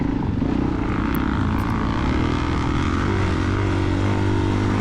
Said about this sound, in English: I'm on my 2003 Suzuki DRZ 400E